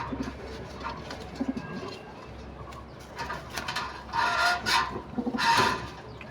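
Soft, throaty pigeon coos repeat in low bursts, growing louder toward the end, with light rustling and handling noise between them.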